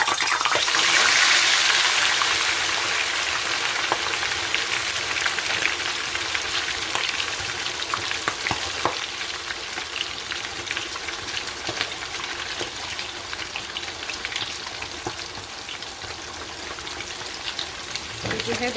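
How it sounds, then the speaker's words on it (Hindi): Egg-coated masala chicken deep frying in hot oil, a steady, dense sizzle that starts loud and eases slightly as it continues, with no talking over it. "अब हम इसको डीप फ्राई करेंगे।"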